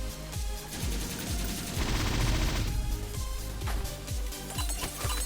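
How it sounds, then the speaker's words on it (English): Rapid machine gun fire in the turn-based fantasy game Epic Battle Fantasy 5, a loud, sustained burst of repeated shots layered with booming impacts and game effects. "Let's go ahead and use machine guns, because you're weak to bomb."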